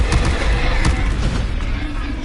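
Spell blasts crash continuously in Hogwarts Legacy gameplay, a loud, dense rumble of booming bursts and crackling impacts with barely a break.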